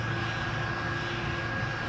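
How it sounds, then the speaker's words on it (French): A Virgin Atlantic airliner taking off produces a steady, moderately loud engine roar with a constant droning hum, heard from a distance with no voices. "Alors voilà un avion qui décolle là."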